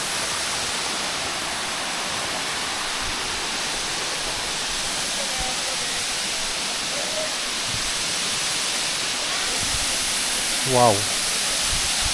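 Steady broadband rushing of a waterfall fills the scene, loud and constant, with a brief exclaiming voice near the end.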